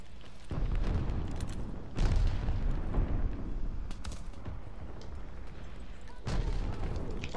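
Grenade and explosive blasts in Call of Duty Vanguard multiplayer, several heavy booms landing at intervals with rumbling decay between, loud and fairly close, without talk.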